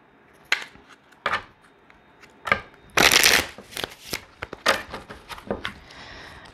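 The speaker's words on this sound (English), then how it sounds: "I'm gonna take a moment to shuffle." Crisp bursts of tarot cards being shuffled, a few quick riffles and slaps close by, separated by short pauses.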